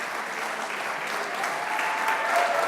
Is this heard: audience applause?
yes